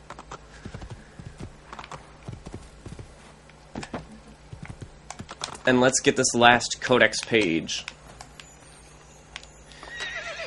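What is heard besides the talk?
horse neighing and hooves in video game Assassin's Creed 2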